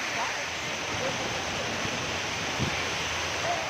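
Ubbalamadugu waterfall at Tada, its water rushing and flowing in a steady, broadband roar that stays even and close throughout, with some wind-like noise mixed in.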